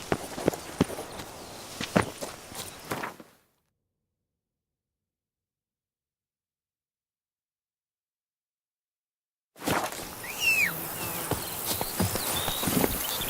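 Horse hooves clip-clop in The Witcher 3 video game, a steady walking rhythm with crickets and insects in the background, cut off by a few seconds of silence before the hoofbeats resume.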